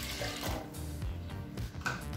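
Water is poured into a pot of basmati rice, a steady splashing and trickling fill that lasts a couple of seconds with no voices over it.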